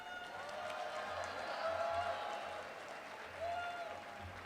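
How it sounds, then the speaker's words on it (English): Audience applause for Representative Schumacher at the Minnesota Capitol during a Disability Services Day event, a steady wash of clapping from a crowd in a hall, fairly distant and moderate in level throughout. "giving a loud round of applause for Representative Schumacher to the stage"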